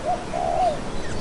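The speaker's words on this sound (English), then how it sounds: "Dove." A dove gives a brief, soft coo, a low hollow call heard up close and alone, lasting about a second.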